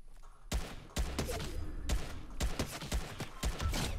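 Bursts of Fortnite gunfire at an enemy player crack out in a rapid run of sharp, loud shots, several separate volleys spaced about half a second apart with no talk over them.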